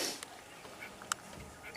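Birds calling in the African bush, faint scattered chirps and squawks over a soft outdoor background, with one brief sharper call partway through.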